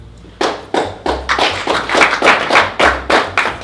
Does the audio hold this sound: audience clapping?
yes